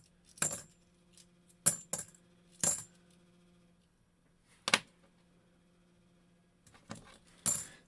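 Half dollar coins drop and clink in a handful of short, separate bursts with quiet pauses between, over a faint steady hum.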